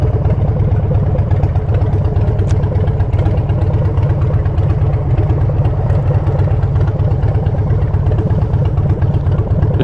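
A very loud motorcycle engine running steadily and close, a deep rumbling idle with clattering texture, constant and unbroken with no talk.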